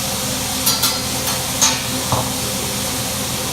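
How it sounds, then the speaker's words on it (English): Food cooks on an Asian barbecue grill in a restaurant, a steady loud sizzle and hiss throughout, with a few faint clinks of utensils over it. "You get to watch the food get cooked."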